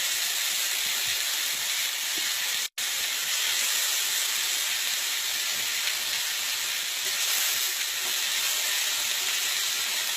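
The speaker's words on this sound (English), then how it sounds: "we're going to start browning these down. Skin down first." Chicken pieces sizzle skin-side down in a hot pan while browning, a loud, constant hiss of frying fat that holds steady throughout with one brief dropout early on.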